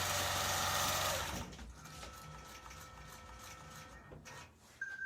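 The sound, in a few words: computerised longarm quilting machine stitching edge-to-edge pattern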